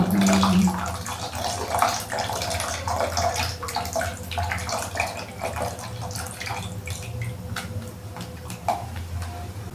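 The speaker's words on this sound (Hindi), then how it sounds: "अब जो कस्टर्ड वाला बैटर है वो इसमें ऐड करेंगे।" Custard batter is poured into a pan of boiled milk for bread vanilla custard, making a soft, continuous liquid splash and trickle close by, with light clinks over it.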